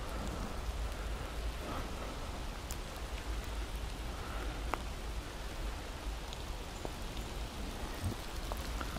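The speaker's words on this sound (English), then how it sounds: "it's raining so bad right now" Heavy rain pours down steadily outdoors, a dense, continuous hiss with scattered close drop ticks and splats throughout, and no voices.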